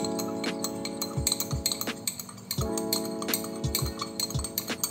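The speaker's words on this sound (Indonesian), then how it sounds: "Kemudian aduk hingga tercampur secara merata." A spoon or rod stirring cosmetic ingredients inside a glass beaker, giving a series of light, irregular clinks and taps against the glass, close and clear, with no one talking.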